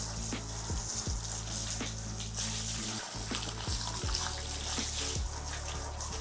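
Shower water streams steadily over a wig being rinsed from the top down, a continuous close hiss of spray and splashing with no talking.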